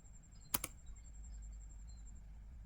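Command-line entries typed on a computer keyboard while configuring a Cisco router for inter-VLAN networking: a sharp double keystroke, likely the Enter key, then near silence over faint steady hum.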